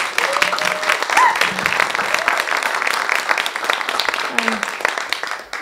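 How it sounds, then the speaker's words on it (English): Audience applause at a book arts event on Bainbridge Island in the Pacific Northwest: a steady, dense wash of clapping from a sizable crowd, holding loud for several seconds, with a few voices calling out briefly. "So I'd like to have a round of applause right now."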